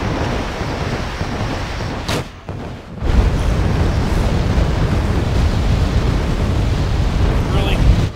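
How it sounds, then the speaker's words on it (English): Artillery shells exploding in a war video game, a heavy continuous rumble of booms and blasts with a short lull before the barrage swells again, loud and close. "This artillery fire was able to push us off."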